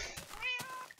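A Minecraft cat meows twice in quick succession, close and clear, with short tonal cries standing out over a faint game background.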